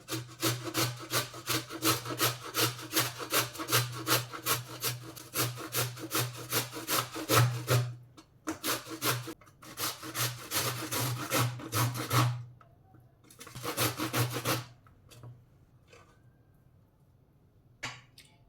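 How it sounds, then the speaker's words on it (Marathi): Raw green mango rasps against a grater in quick, rhythmic strokes, close and steady for most of the time, then slowing into a few scattered scrapes before stopping; no one speaks. "कैरी आपण किसून घेऊया."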